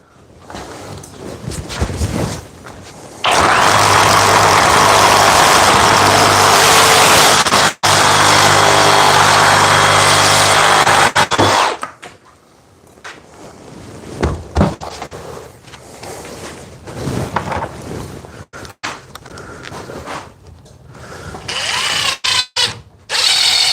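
A cordless reciprocating saw cuts through wood with old screws embedded in it, a loud, harsh, buzzing cut lasting about eight seconds, followed by quieter handling clatter and short bursts of tool noise.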